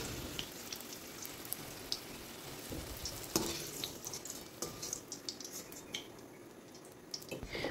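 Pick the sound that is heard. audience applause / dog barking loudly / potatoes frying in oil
potatoes frying in oil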